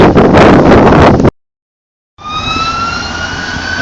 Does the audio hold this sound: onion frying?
no